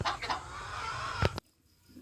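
Hens cluck on a farm in a short burst of close, choppy calls that cut off abruptly, leaving near silence.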